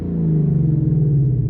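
A Ford Mustang 5.0 with its resonator deleted gives a brief, loud, deep exhaust rumble as the engine revs, heard from inside the car with the windows rolled down.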